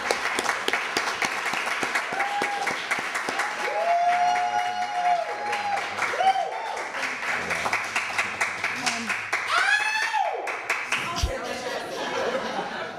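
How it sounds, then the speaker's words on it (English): Library poetry reading audience applauds a poet, sustained clapping with chuckles and a voice speaking over it, tapering near the end. "Kathleen, let's give Kathleen a great round of applause."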